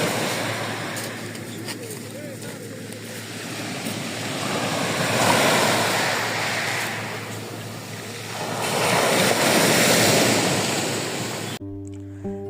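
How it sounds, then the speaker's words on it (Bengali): Broad surf roar swelling and receding in long waves on the coast of Japan, with steady wind noise over it; the sound cuts off abruptly near the end. "সমুদ্রের গর্জন আসলে কাছ থেকে দেখতে অনেক সুন্দর এবং অনেক শ্রুতিমধুর শব্দ।"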